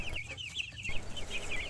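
Two-week-old meat chicken chicks chirp and cluck, high repeated peeping calls close by over a steady low background hum.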